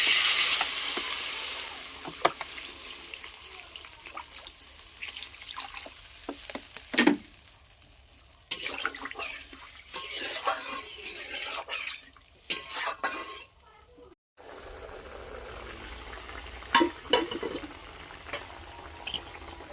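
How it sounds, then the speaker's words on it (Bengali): Spice paste being fried and stirred in a pan for a prawn, papaya and potato curry, with scraping and clinking utensil strokes over a faint steady sizzle, moderately close, no talking. "মশলাটা প্রায় কষানো আমার হয়ে গেছে"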